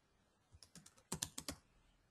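Keys on a computer keyboard tapped out while entering a name, a short cluster of crisp clicks followed by a quicker burst of about five strokes, close and clear in a quiet room.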